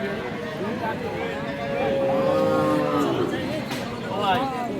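Sahiwal cows with calves at a rural livestock market in Dinajpur give a long, low moo rising midway, set against a busy background of crowd babble and people talking.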